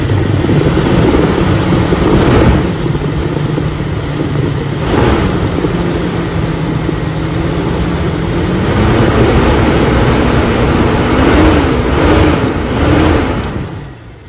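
A Toyota Kijang Krista 1800cc carbureted engine runs after starting. It makes a loud, steady drone, its pitch shifting slightly with small revs near the end before it fades.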